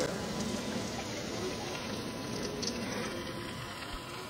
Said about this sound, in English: Still splashing everywhere.